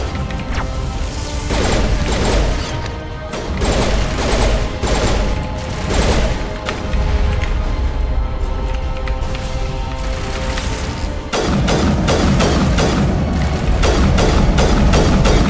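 Dense, loud video game combat in Mass Effect: continuous gunfire bursts, rocket blasts and crashing impacts overlapping throughout, with brief lulls before the barrage resumes even harder.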